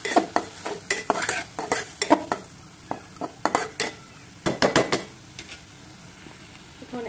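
Fried onions (birista) are stirred into a sizzling masala, with bursts of scraping spoon strokes in an uneven rhythm over a soft sizzle that quiets toward the end.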